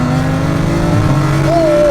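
Turbocharged, heavily modified BMW M340i built to push over 1200 horsepower, its engine droning loud and steady near the microphone, with a rising tone near the end as it revs and pulls away.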